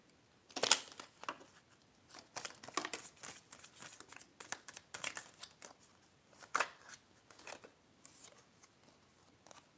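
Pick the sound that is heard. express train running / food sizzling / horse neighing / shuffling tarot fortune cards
shuffling tarot fortune cards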